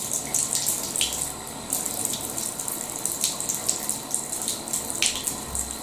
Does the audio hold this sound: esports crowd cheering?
no